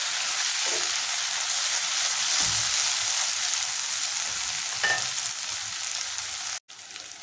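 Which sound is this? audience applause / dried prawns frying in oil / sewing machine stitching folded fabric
dried prawns frying in oil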